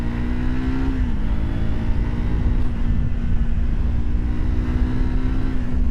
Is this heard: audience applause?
no